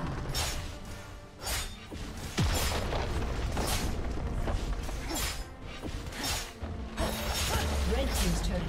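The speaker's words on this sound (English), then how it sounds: "Red team's turret has been destroyed" Crashing, shattering destruction of a turret tower in League of Legends, a dense burst of booming debris and whooshing effects layered with game sounds and an announcer voice.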